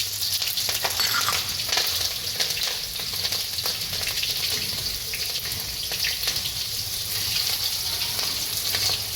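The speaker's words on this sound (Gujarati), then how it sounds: "આપણે રાઈ નાખશું. આપણે આ મરચાં નાખી દઈશું." Mustard seeds and chilies sizzle in hot oil while millet-and-fenugreek muthiya are being made, a loud continuous frying hiss with crackling pops and occasional stirring clatter, no voices.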